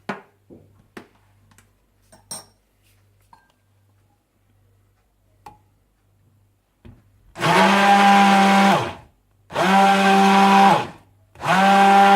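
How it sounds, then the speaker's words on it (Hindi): An electric blender beats homemade mayonnaise with vinegar, white pepper powder and salt. A few soft clicks and taps come first, then three loud, steady whirring bursts separated by short pauses. "सिरका, व्हाइट पेपर पाउडर और नमक डाल दें और इसे बीट कर लें"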